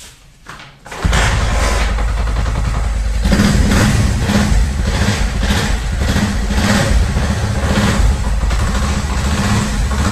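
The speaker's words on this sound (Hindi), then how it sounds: "अब हम बाइक को करते हैं स्टार्ट" A Honda 70 motorcycle engine kicks into life after a brief start attempt, then settles into a loud, steady, close-up running putter with a rhythmic pulsing beat and no voices.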